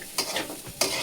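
Noodles cooking in a pan give a close, steady sizzle with two sharp scraping stirs of a utensil, one early and one near the end, with no voices.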